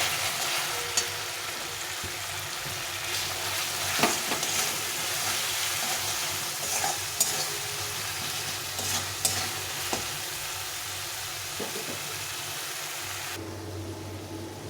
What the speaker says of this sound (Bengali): আর হলুদ গুঁড়ি এটাকে ভালো করে কষিয়ে নিতে হবে